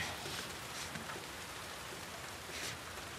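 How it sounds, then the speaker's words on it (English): Steady rain hiss in The Last of Us Part II fills the scene, an even wash of patter with faint droplet taps, moderately quiet and continuous throughout. "Listen to that rain."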